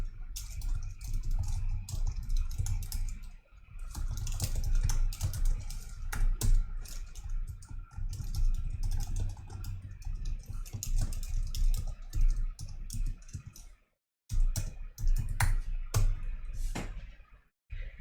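Code being typed on a computer keyboard: rapid, close clusters of key clicks running almost continuously, with a brief pause near the end before the typing resumes.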